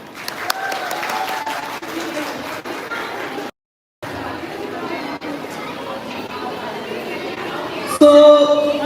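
An audience at a Teeyan Punjabi cultural festival in New Jersey claps in a sustained burst that breaks off briefly and then resumes, with chatter and a voice over it near the end.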